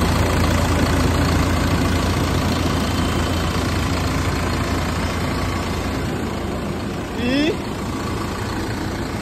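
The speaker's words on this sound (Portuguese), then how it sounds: "o motor funcionando" A Liugong 6612E road roller compactor's engine idles up close with the hood open, a steady loud rumble throughout and a brief whirring rise near the end.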